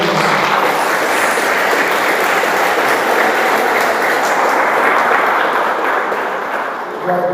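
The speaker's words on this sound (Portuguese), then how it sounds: "Os irmãos podem aplaudir bem forte o Senhor." A church congregation applauds loudly in praise, a dense, continuous roar of clapping hands that fills the room evenly for several seconds before thinning slightly at the close.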